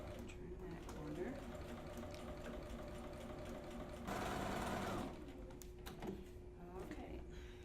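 A sewing machine hums steadily as it stitches around a fabric collar at a quarter-inch seam, with one faster, louder burst midway, while a voice talks over the mechanical whir.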